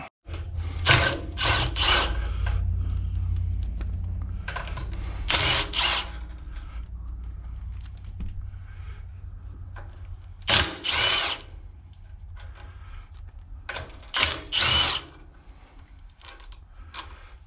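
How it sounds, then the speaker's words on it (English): A power tool rattles in short ratcheting bursts as bolts are loosened on the head of a leaking air compressor, with an engine-like hum early on and quiet gaps between the bursts. "bust the bolts off the head, I might be able to lift it up enough to get that gasket out"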